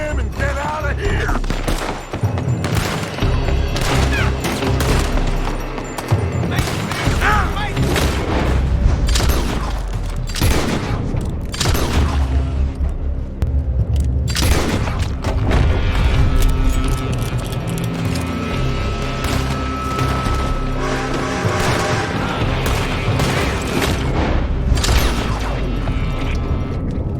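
Sustained gunfire in Red Dead Redemption 2, loud and dense, with rapid shots and heavy booms over a continuous battle bed lasting throughout, no talk.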